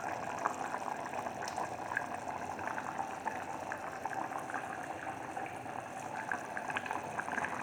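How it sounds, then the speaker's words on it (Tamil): A pot of Tamil Nadu style chickpea kuzhambu boils steadily, with continuous bubbling and a soft liquid simmer close by, even and unbroken throughout with no talking. "இப்போ வந்து குழம்பு நல்லா கொதிச்சுட்டு இருக்குது."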